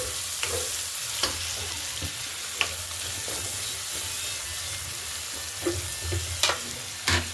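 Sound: chopped onions frying in oil with whole cumin

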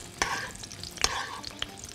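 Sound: chicken slices frying and stirred in a pan

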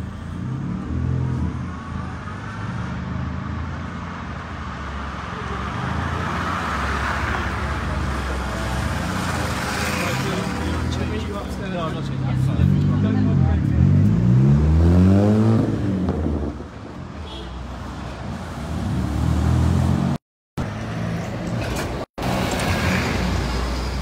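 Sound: car traffic on a town street, bus nearby

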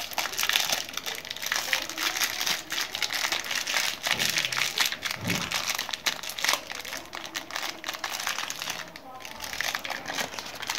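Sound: crinkling plastic bag

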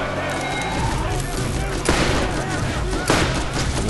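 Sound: sniper revolver gunfire in Borderlands video game

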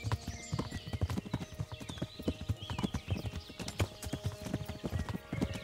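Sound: horse hooves while riding, Kingdom Come Deliverance video game

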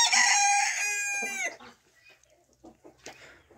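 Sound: rooster crowing

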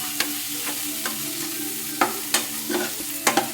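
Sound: stirring prawn roast with onion, tomato and pepper in pan

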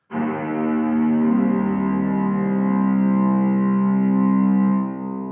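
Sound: strings through reverb impulse responses

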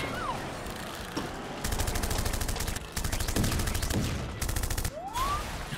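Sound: gunfire in a video game

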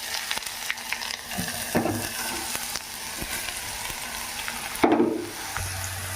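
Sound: carrots frying in ghee with curry leaves

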